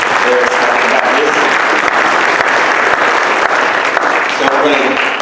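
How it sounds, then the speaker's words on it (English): A school Christmas concert audience claps loudly and continuously for a round of applause, a thick, unbroken crowd clatter with faint voices mixed underneath. "Give them a round of applause."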